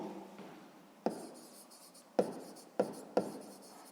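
Pen writing by hand on paper while working a Grade 6 maths exercise, a soft continuous scratching broken by four sharp taps at irregular intervals, close and quiet, with no talking.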